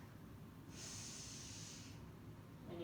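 A single slow, audible breath through the nose during a gentle yoga flow, a soft hissing rush lasting about a second over quiet room tone.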